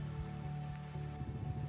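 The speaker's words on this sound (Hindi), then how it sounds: "तो भाई बारिश तो नहीं रुक रही," Rain falls steadily on the Sach Pass mountain road in the Pangi Valley, a dense continuous patter under a low engine-like drone, without any talk.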